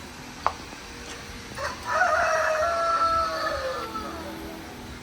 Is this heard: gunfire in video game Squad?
no